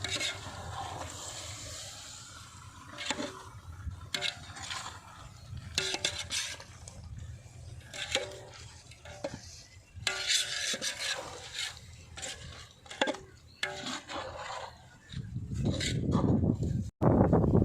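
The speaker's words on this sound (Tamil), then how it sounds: "மசாலாவோட அரிசியை கொஞ்சம் நல்லா கலரி போட்டுக்கலாம்." Rice being stirred with masala in a pot for chicken biryani, with repeated scraping and rubbing strokes in an irregular rhythm, close and fairly quiet, and a louder clattering burst near the end.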